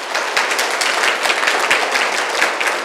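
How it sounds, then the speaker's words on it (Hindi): An audience at a Buddhist vihara gathering in Nagpur claps in a dense, steady wash of applause lasting the whole stretch, with no voices breaking through. "आप मेरे लिए तालियां बजा सकते हैं।"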